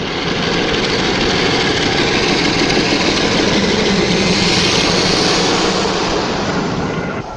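Class 45 diesel locomotive 45114 departing Scarborough in August 1982, a loud, continuous engine roar with broadband rumble that holds steady throughout and fades slightly at the end.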